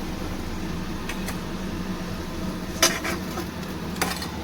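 Potatoes frying in oil in a pan give a steady, soft sizzling hiss, broken by a couple of sharp clinks as a utensil lifts them out.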